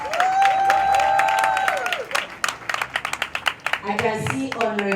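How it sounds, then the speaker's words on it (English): Audience applause at the screening of the film 'Diamonds in the Sky' in Lagos, a steady wash of clapping running under a talking voice, with tonal music in the opening seconds and scattered claps near the end. "Please give him a round of applause."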